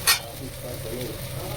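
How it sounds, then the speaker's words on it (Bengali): Onion and taro fry in a pan, giving a steady close sizzle with a brief sharp clatter at the start. "বন্ধুরা ভাজা ভাজা হয়ে গেছে পেঁয়াজ কচুটা"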